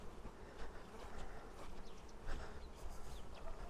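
Central Russian honey bees hum and buzz around an open hive during a May colony inspection, a faint continuous drone with individual bees passing close now and then.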